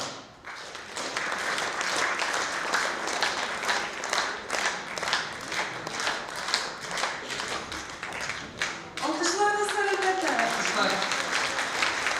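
A concert audience at a Bashkortostan young performers' native-language contest claps in a rhythmic unison beat, then a voice speaks over the last few seconds.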